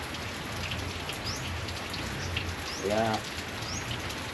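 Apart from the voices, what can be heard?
steady rain falling outside the house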